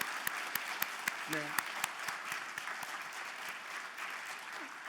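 A congregation at a Sunday Christmas worship service applauds a couple standing at the front. The clapping is steady and continuous, filling the room, and a brief voice is heard at the start.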